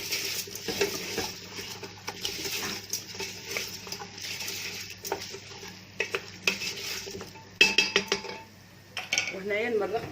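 A spoon stirs chopped garlic and red lentils in a cooking pot for red lentil soup, giving soft scraping and clinking strokes with light sizzling, continuous at close range with no talk.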